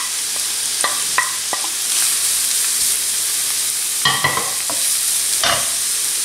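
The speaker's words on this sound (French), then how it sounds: "je vais colorer des oignons nouveaux dedans" Spring onions and coarsely grated carrot frying in a pan, a soft steady sizzle with a few sharp scrapes of stirring and clatters of a utensil against the pan, no voices.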